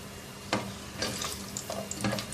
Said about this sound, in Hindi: 10-12 काजू, ये 2-3 मिनट फ्राई करेंगे इनको।